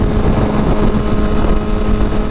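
BMW S1000RR sport bike engine accelerating hard, a loud, continuous, buzzing roar heavily mixed with wind rush, steady across the whole stretch with no talking.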